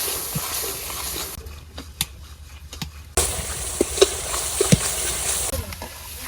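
Ground spices, chili powder, turmeric and salt sizzle in a pan in a Bengali village kitchen, a steady frying hiss broken by stirring scrapes and clinks, with a brief quieter stretch before the sizzle returns loud.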